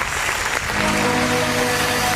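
A church congregation applauds during an online worship service, a dense, steady patter of many hands clapping together, continuous and fairly close for a couple of seconds.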